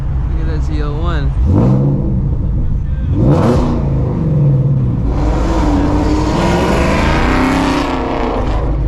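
A straight-piped Shelby GT350 Mustang revs hard during a city drive, its loud engine rising and falling through several aggressive pulls up close, with someone talking over it.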